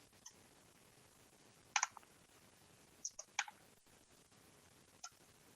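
Computer mouse clicks during a spreadsheet formatting session, a handful of quiet, crisp single and double clicks spaced a second or two apart against a faint room hiss.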